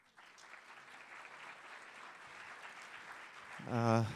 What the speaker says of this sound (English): Please applaud them once again.